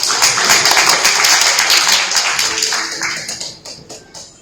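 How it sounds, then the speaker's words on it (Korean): Enthusiastic audience applause at an AI marketing innovation forum as a presenter is introduced, dense clapping that stays strong for a few seconds and then thins out and fades into scattered claps. "열띤 박수 부탁드리겠습니다"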